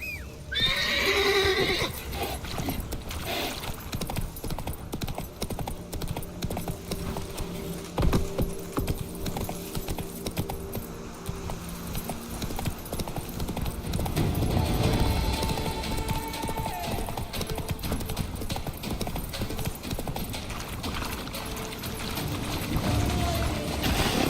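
Roach, a horse in the video game The Witcher 3, neighs and clip-clops at a gallop through a busy game soundtrack that continues throughout.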